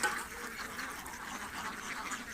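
Peking ducks quack faintly and continuously on a duck farm, a distant flock chattering without pause.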